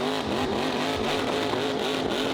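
Supercharged big block Chevy in an OBS truck revs hard at wide open throttle, a loud, rough, continuous roar with a pulsing rumble, up close and with no voices.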